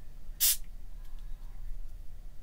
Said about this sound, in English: We're going to use our freeze spray.